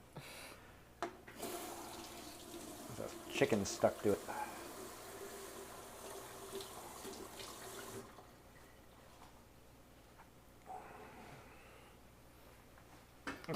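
Running tap water splashes over a metal spider strainer in a sink for several seconds, with people talking over it, then the flow stops and quieter sounds follow.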